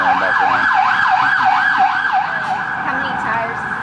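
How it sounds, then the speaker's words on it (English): Volunteer fire department emergency vehicle sirens wail in a steady rising and falling cycle, loud and close over low engine rumble, with the siren tone fading out near the end. "as the sirens are going back on"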